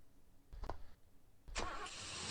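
A truck in the mobile driving game Dr. Driving gives a brief engine start and thump, then settles into a steady mid-pitched engine hum, close and fairly quiet.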